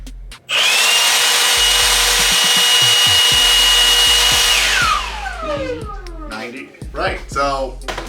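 Milwaukee M18 cordless blower running at full power with a loud, steady high-pitched whoosh and whine, then spinning down with a falling pitch as voices talk over it.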